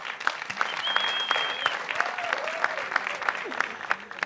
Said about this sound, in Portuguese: Aplausos, por favor, para a dupla Nice Zulu e BC